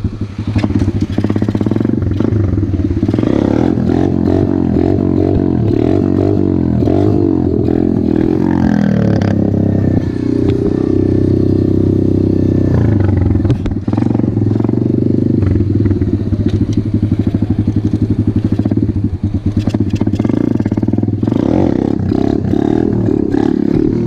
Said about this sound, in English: And I'm about to pop some wheelies real quick.